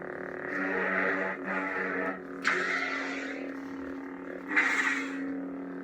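A lightsaber replica's steady, smooth electronic hum with layered harmonic tones, swelling in brief surges and crackling swooshes, loud and continuous throughout with no voices.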